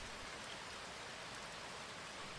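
Steady rain falling outdoors near an abandoned dam, a soft, even hiss of drops on surfaces that holds constant throughout, with a brief thump right at the end.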